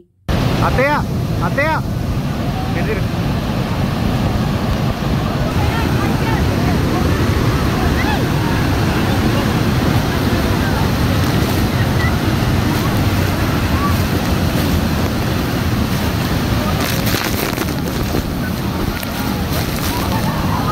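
Niagara Falls crashing down at close range, a loud, steady roar of pounding water with wind buffeting the microphone, continuous throughout with a few faint voices under it.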